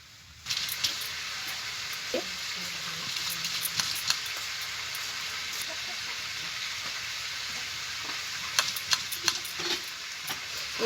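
Chicken pieces frying in a pan produce a continuous crackling sizzle with scattered sharp pops and occasional stirring clatter, close and moderately loud.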